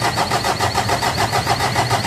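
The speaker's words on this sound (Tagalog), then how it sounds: "Pag okay na, pwede na ngayon pa-start itong makina." A Ford Everest diesel engine cranking over in a fast, steady pulsing churn, loud and close, with no voices over it.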